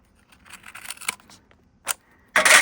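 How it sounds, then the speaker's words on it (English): Excess paper trimmed away with scissors before die cutting: a string of quiet crisp snips, a single sharper cut, then a loud rustling scrape of paper at the end. "And I cut off the excess here."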